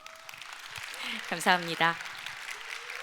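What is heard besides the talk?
audience applause for the panel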